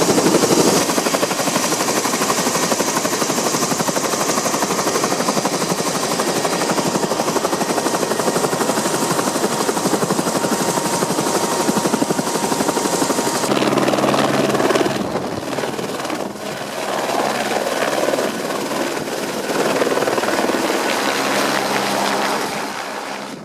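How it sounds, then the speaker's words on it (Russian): A Eurocopter helicopter lifts off from a mountain landing site at Bagding in the Nepal Himalayas. Its loud, close turbine roar and chopping rotor noise hold steady, then shift and thin slightly partway through as it climbs away, with no voices. "Еврокоптер взлетел, направляясь обратно в Катманду"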